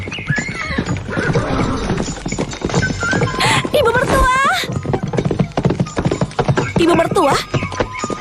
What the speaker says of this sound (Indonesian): Ibu membawa kuda juga.